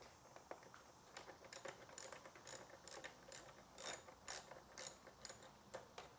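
A ratchet with a 10mm socket clicks in quick, uneven bursts while loosening exhaust servo bolts on a 2025 Kawasaki ZX6R motorcycle, the sharp metallic pawl ticks close and faint.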